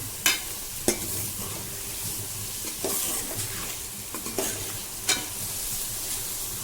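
Onion and tomato fry in oil in a pan for red lentil dal, an even, close sizzle with occasional sharp scrapes and taps from a stirring spoon.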